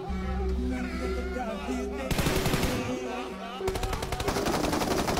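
Bursts of rapid automatic gunfire from the PUBG Mobile video game crackle in and out, with the game's background sound and a voice talking underneath.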